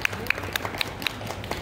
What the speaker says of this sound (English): If you think Tooyama win, and then please just clap your hands.